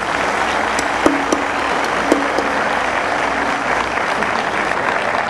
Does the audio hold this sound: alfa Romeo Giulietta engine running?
no